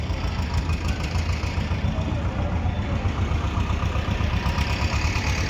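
A Swaraj 744 FE tractor at a tractor market idles with a steady, even engine drone from start to finish and no voices over it.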